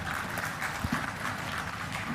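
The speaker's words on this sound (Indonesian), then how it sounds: "Tepuk tangan untuk beliau." Crowd applause at the groundbreaking ceremony for the Jagat Kerthi Bali toll road (Gilimanuk–Mengwi): a steady, dense wash of clapping that holds at an even level throughout, with a couple of slightly louder thumps near the middle.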